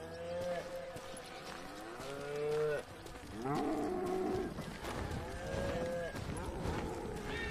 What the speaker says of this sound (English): Hey, cows.